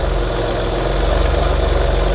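A Maserati engine idles steadily nearby, a low, even rumble with faint rhythmic pulsing and no voices.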